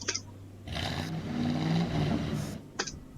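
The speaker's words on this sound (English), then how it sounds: "The garbage truck revs." A garbage truck engine revs up with a rising, grinding roar, then settles back down, heard from fairly close with brief clunks before and after.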